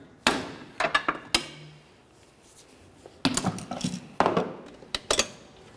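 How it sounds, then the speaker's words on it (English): Sharp metallic strikes of a hammer on a pry bar while breaking free a steering rack bellows boot clamp on a 2004–2006 Scion xB, coming in irregular clusters with pauses, up close. "Just go ahead and use the pry bar and your hammer, break it free so you can remove the bellows boot."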